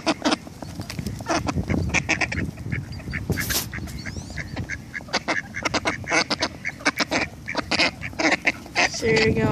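A group of ducks feeding from a hand quack and honk constantly and loudly at close range, overlapping calls in a busy chorus, with a person talking among them.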